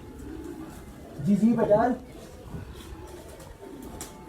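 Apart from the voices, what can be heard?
pigeons cooing on rooftop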